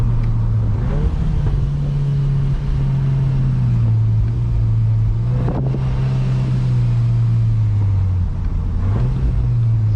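A VW Golf R Mk8 drives on a damp, muddy road, its engine holding a steady low drone close to the microphone, with brief rises in revs around a few points and no talking.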